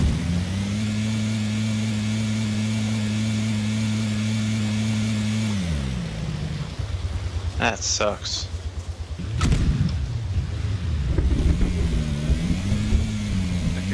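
A buggy's engine drones steadily while driving in a video game, then revs and shifts pitch unevenly as it picks up speed, with people talking over it.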